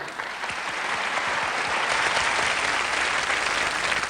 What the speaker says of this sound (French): je crois qu'on peut les applaudir et leur dire bravo.